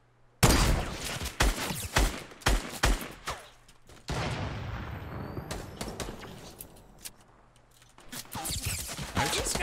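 Rapid automatic gunfire in a Fortnite match, with dense overlapping bursts and sharp single shots that stay loud and close, a steady rattling volley in the middle, then more crackling shots, and no voices.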